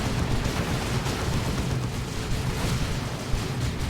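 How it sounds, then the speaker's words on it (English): Blight Grenade blast from a Plague Champion in Dawn of War 2, heard as a dense, continuous rumbling roar of battle explosions and gunfire, steady and loud throughout with no clear single boom standing out. "Here comes the Plague Champion looking for a Blight Grenade."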